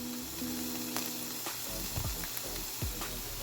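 Red onions hit a hot frying pan with a faint, steady sizzle, and a few soft clicks and scrapes sound from the pan over it.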